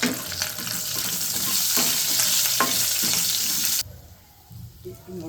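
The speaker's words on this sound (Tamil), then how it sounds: "கடுகு உளுத்தம் பருப்பு தாளிக்கணும்." Mustard seeds and urad dal crackle and sizzle loudly in hot oil, with scattered pops, and then the hiss drops away abruptly to a quieter background near the end.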